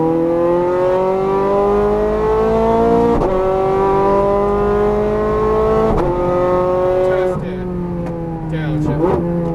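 A Ferrari F430 Scuderia accelerates on a race track at Exotics Racing Las Vegas, its engine note rising steadily with sharp drops at each upshift, loud and close throughout, with an instructor's voice faintly under the engine.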